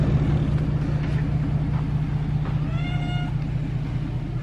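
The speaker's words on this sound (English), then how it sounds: "Hi, Mill Shop Kitty. Did you miss me" A cat in a mill shop gives a short meow over a steady low engine rumble, close by, with a few faint clicks around it.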